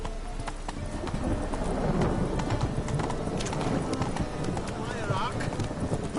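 Geralt's horse Roach in The Witcher 3 trots and gallops, a steady stream of hoofbeats under dense game ambience. A voice and other game sounds are mixed in.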